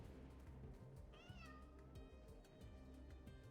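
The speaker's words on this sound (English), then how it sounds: "Why do they make cat sounds?" Cat meows from a video game, a short wavering cry in the middle followed by fainter mewing, mixed into dense background game sound and music.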